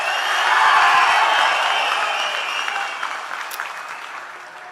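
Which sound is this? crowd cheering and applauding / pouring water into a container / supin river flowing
crowd cheering and applauding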